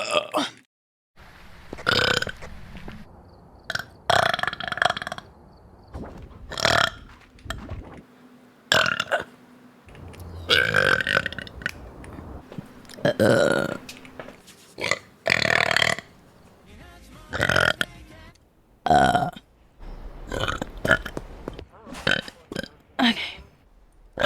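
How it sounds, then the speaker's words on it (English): Series of loud, drawn-out burps from a VTuber, a dozen or so separate belches spaced across the stretch with short pauses and low background noise between them. "420 burps, nice."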